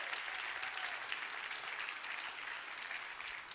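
Steady congregation applause at a church worship service, a dense even wash of clapping held at a moderate distance for the whole stretch with no voices over it.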